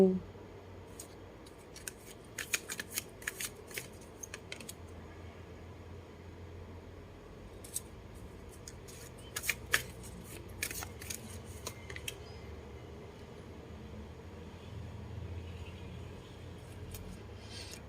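Tarot oracle cards are shuffled in quick papery bursts, crisp flicks and riffles clustered in short runs over a low steady hum, faint and close, with quiet gaps between the runs.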